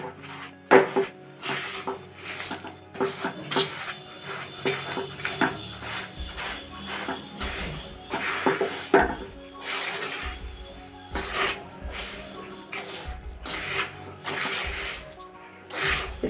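Semolina halwa with sugar and milk powder being stirred and roasted in a pan until golden, a steady run of scraping and clinking spoon strokes against the pan with no talk.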